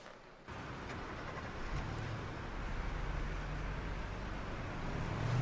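A car engine drones steadily in Life Is Strange, a low continuous hum that swells slightly louder as the vehicle drives on, with no talking over it.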